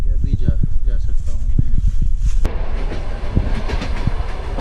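A passenger train travelling from Samarkand to Tashkent rumbles along the rails with a steady wheel-and-carriage roar and faint clacking, heard from inside the train while voices talk over it early on.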